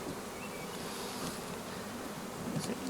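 Honeybees buzzing steadily around a hive at a Lemko apiery in Zdynia, a dense close swarm hum that holds evenly throughout with no voices.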